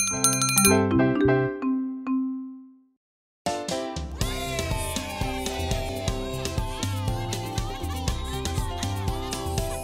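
Bell chimes for a subscribe prompt in a French-dubbed educational children's cartoon, several bright ringing strikes fading out, then a pause before a busy music bed starts.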